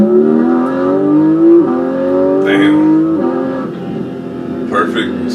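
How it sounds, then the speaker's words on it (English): Porsche 718 GT4 with a naturally aspirated engine revving and shifting, its tone climbing in steady pulls broken by quick gear changes, loud and close, with someone speaking briefly over it. "I love the engine. Like, the engine really has a good tone."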